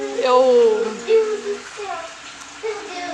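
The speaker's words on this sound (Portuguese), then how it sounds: "vai lá fechar a torneira pra mamãe, amor" A household tap left running gives a steady, close hiss of flowing water through the whole stretch, with a voice talking over it.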